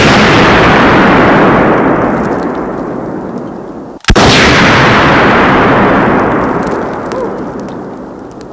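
A Claymore mine detonates during Army paratrooper training, a single loud sharp blast at mid-clip set within heavy, roaring broadband outdoor noise that fades slightly before and swells again after the explosion.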